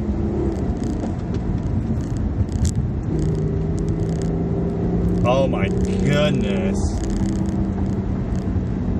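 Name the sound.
2012 Acura TL SH-AWD manual car driving through twisties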